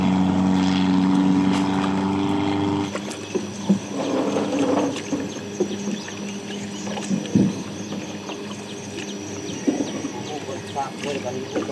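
A small private cruise boat with a roof motors along the Nam Ou river in Laos, its engine droning steadily at first, then the tone shifts as the boat moves on, with people talking over it.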